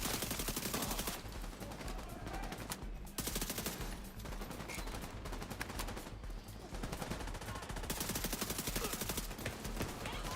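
An enemy turret in The Division 2 unloads rapid automatic gunfire in long, dense bursts with brief gaps between them, loud and close throughout the clip.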